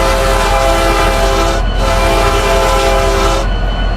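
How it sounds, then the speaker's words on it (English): Loud sustained blasts of a commuter locomotive horn in the Roblox RO Scale Sandbox game, a chord-like tone sounding in two long bursts with a short break between, close and alone. "So this is the original sound of horn"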